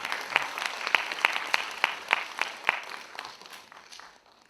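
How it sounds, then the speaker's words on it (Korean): An audience at an international human rights forum applauds to welcome a speaker: a patchy round of sharp, distinct claps at moderate distance, fading out toward the end with no talking. "뜨거운 박수로 환영해 주시기 바랍니다."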